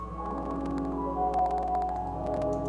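Sustained piano chords wash together in a long, heavy reverb tail, the notes blurring into a continuous shimmering haze without any talking.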